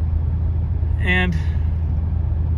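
1986 Oldsmobile 98 Regency driving on a road, a steady low rumble of engine and tires throughout, with a brief tonal chirp in the middle.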